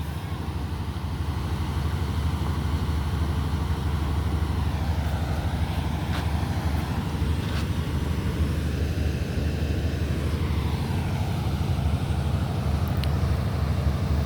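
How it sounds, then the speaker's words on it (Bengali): A motor runs beside a factory's ETP (effluent treatment) plant, a steady low mechanical drone heard from some distance with broadband hum throughout, no voices over it. "এই যে দেখতেছেন ফ্যাক্টরির পাশে একটা মোটর ঘুরতেছে"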